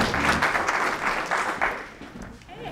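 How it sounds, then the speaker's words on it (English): Audience applause fills a union hall at a labor union event on police accountability: a sustained burst of many hands clapping, fairly close and loud, with some voices mixed in, fading slightly toward the end. "So give a good round of applause for Kathleen Jensen."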